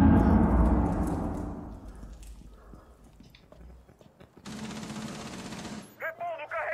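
Gunfire in Rainbow Six Siege, a rapid burst of shots rolling off at the start, then a sustained loud noisy stretch later, with a voice speaking near the end.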